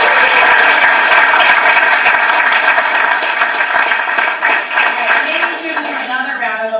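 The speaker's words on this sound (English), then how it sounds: "Another round of applause" Applause at a state grant awards ceremony for career technical schools, a loud, dense burst of clapping from a crowd that tapers slightly toward the end while a voice starts up.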